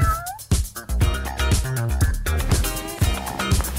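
A cartoon cat meows over lively background music, several short bright meows repeated through the stretch, loud and close.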